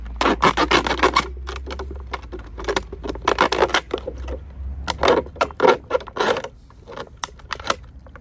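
Scissors cutting into the mouth of a plastic PET bottle, a close series of sharp crinkling snips and rasping crackles, loud and uneven, with no talking.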